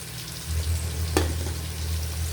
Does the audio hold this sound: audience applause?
no